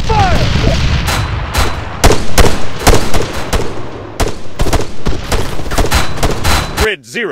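Heavy Arma 3 gunfire in a military combat scenario: dense, loud volleys of rapid shots and bursts crackle almost continuously, with sharp individual reports cutting through and a brief distorted voice near the end.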